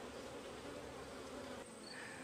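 Honey bees buzz around beehives being prepared and fed for winter: a steady, dense, close droning hum that fills the whole moment with no voices.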